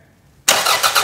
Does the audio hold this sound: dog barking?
no